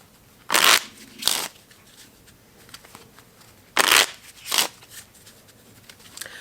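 A deck of playing cards is riffle-shuffled twice, each round giving a pair of short, crisp ruffling bursts separated by quiet handling.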